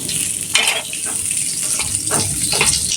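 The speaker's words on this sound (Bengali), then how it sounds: "আমি হচ্ছে এখন ভালো করে আলুগুলো ভাজতেছি" Potatoes fry in a pan with a loud, close, continuous sizzle and crackle, broken by a few bursts of stirring scrapes.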